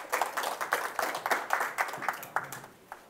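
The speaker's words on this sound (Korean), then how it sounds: "박수로 맞이해주세요." A small audience at a public science lecture in Daejeon claps to welcome a professor, distinct individual hand claps in an uneven, steady patter lasting about three seconds, fairly close and without talk.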